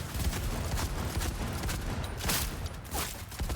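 Gunfire in Cyberpunk 2077: a dense, steady rattle of rapid shots runs through the whole stretch at moderate loudness, with no talking over it.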